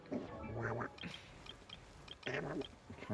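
A voice imitates Daffy Duck quacking, several raspy nasal quack bursts in quick succession with a short pause between groups, close and fairly quiet.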